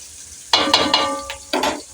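Onions frying in a pan sizzle in several loud bursts as they are stirred, each surge of hiss fading before the next, with no talk over them.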